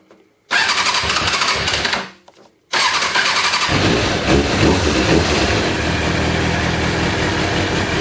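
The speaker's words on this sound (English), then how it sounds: "You gotta rev it a little bit to get it started." A carbureted Kawasaki ZZR600 motorcycle engine cranks, catches briefly and dies, then restarts and settles into a loud, rough idle with revving.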